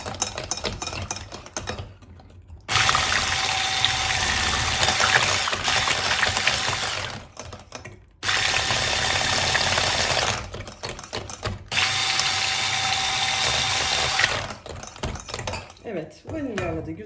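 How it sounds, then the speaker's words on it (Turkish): An electric hand mixer beats apple cake batter in two long, steady bursts of loud, even whirring, separated by brief pauses with faint kitchen sounds. "Son kez bunu da karıştıracağım."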